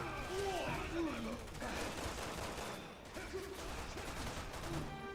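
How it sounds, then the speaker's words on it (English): Gatling gun firing in Resident Evil 6, rapid sustained bursts of gunfire heard faintly under someone talking, with short pauses between volleys. "I was kind of hoping I can kill more things with this Gatling"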